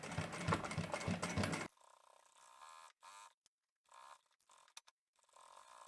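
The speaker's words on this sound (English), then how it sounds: "we're going to stitch both of these folds down in the same direction" A sewing machine runs loud and steady for a moment while stitching a seam on a fabric shopping bag, then stops, leaving faint intermittent handling noises.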